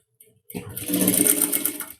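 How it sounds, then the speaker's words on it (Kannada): A sewing machine stitches a blouse seam, starting after a brief pause and running steadily at a quick, even rhythm for about a second and a half before stopping, close and clear with no talk. "ಇಲ್ಲಿ ಸ್ಟಿಚಿಂಗನ್ನು ಮಾಡ್ಕೊಳ್ಬೇಕು"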